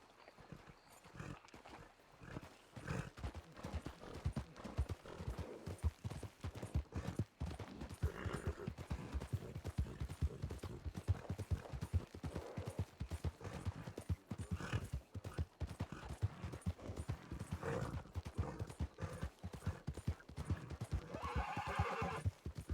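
A horse in a western role-play game clip-clops steadily over ground throughout, with several loud whinnies and neighs rising above the continuous hoofbeats.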